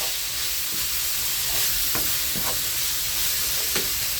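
Chicken pastilla filling with cumin stirred in a hot frying pan, a steady close sizzle with occasional soft scrapes and clinks of the spoon.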